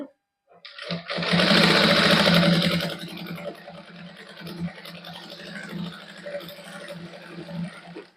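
A sewing machine stitches lace onto suit fabric, running in a loud close whir for about two seconds, then continuing in softer, uneven bursts of stitching with faint handling noise.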